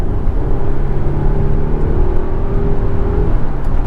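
A Volvo XC90 Recharge plug-in hybrid SUV with 455 horsepower accelerates with a dense, loud rumble and a steady whir that climbs and holds for a few seconds. No one speaks.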